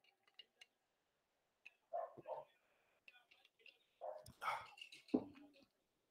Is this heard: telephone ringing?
no